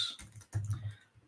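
Keystrokes tapping on a computer keyboard during a self-publishing livestream: a short, close burst of uneven clicks without any talking.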